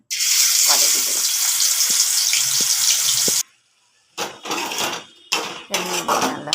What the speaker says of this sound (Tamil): இதை வந்து எண்ணெயில் வதக்கிக்கலாம்.